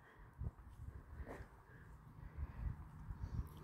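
Crows caw faintly in a very quiet outdoor spot, a few short calls rising above a low rumbling background.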